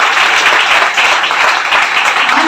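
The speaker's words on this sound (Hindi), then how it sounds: "जोरदार तालियां होनी चाहिए" An audience at a Mi Lifestyle sharing event bursts into loud, dense applause, a continuous wash of many hands clapping up close with no break.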